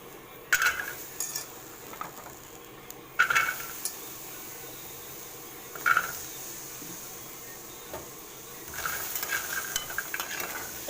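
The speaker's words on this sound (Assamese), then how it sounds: "এইখিনি এনেদৰে লৰাই লৰাই ভাজি থাকিম" Jackfruit seeds stirred and dry-roasted on a hot tawa over a low gas flame, with sparse scraping clinks at intervals and a faint, quiet sizzle, no voices.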